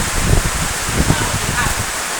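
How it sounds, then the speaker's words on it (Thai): Heavy rain pours down in a dense, continuous hiss close by, with a voice faintly present beneath it. "โอ้เบิ่งว่าฝนตกอ่ะ โอ้ขาว ตกแรงพ่อพี่น้องเอ้ยับ"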